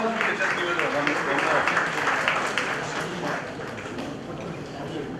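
Audience at an MSME start-up conclave giving a round of applause, dense steady clapping that fills the room and slowly fades toward the end.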